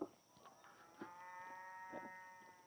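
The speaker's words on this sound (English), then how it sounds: "I can see all the cattle up there on the hill" Cattle up on a distant hillside give faint, drawn-out lowing calls that rise and fade over a quiet outdoor background, with no one talking.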